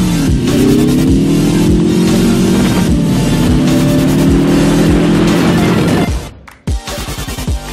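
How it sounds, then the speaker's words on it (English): A car engine revs hard and steadily while pulling a sled behind it, a loud sustained roar that cuts off abruptly near the end before a few rough, uneven bursts. "we both got dragged behind a car"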